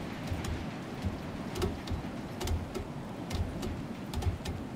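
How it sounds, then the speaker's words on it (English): Rainstorm in Star Citizen, a steady hiss of rain with soft low rumbling and scattered sharp drop-like ticks throughout, fairly quiet and without talk. "Hopefully the storm will pass and I'll be able to see a little better."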